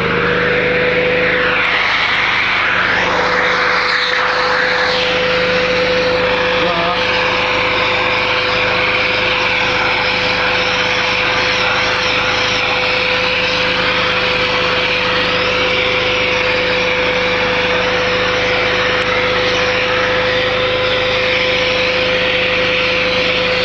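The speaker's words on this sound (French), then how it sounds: "On va démarrer l'aspirateur." A vacuum cleaner runs as an inductive load on a Kohler SDMO 6000 HX portable generator, giving a steady loud engine drone with a constant electrical hum that holds unbroken throughout.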